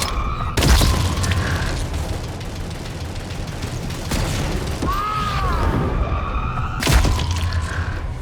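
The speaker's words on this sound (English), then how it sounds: "the grav gun was a real wow moment" Grav gun fire in Necromunda: Hired Gun, with heavy booming bursts near the start and end framing a whooshing, warbling black hole pull effect in the middle, loud and continuous.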